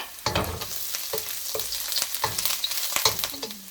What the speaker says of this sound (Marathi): लगेच आपण अद्रक आणि हा लसूण हे चांगलं आपण तेलामध्ये फ्राय करून घेऊया।